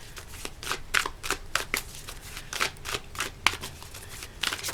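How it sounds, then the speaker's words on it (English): Animal spirit oracle cards are shuffled up close in a quick, irregular run of crisp riffling bursts, quiet and without talk. "Let's get an animal spirit card."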